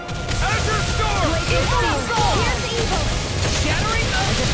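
Azure Storm attack from the Tales of Arise video game: dense, crashing bursts of magical impact and rushing energy over a continuous battle din, with voices shouting over the action throughout.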